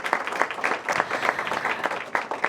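An audience at a Washington, D.C. mayoral announcement claps loudly and continuously for Councilmember Orange, a dense round of applause heard up close without talk.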